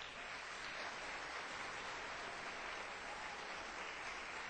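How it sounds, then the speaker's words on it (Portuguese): A church congregation at a Sunday service applauds for an eight-year-old birthday girl, a steady wash of clapping that holds evenly throughout, faint and somewhat distant. "Os irmãos querem dar uma salva de palmas para ela?"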